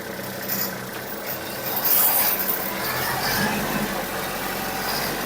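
A small farm vehicle's engine runs, shifts gear and pulls away, a mid-pitched motor rumble that swells noticeably as it moves off and then holds steady.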